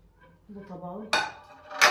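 Plates and pots clink and clatter as they are set out in a kitchen, two sharp metallic knocks coming after a stretch of speech.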